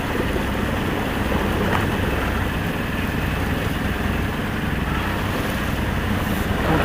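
A sailboat motors under engine power through swell on the Iroise Sea with no wind for the sails. A continuous low engine drone mixes with rushing water and wind buffeting the microphone at moderate level, with no talk.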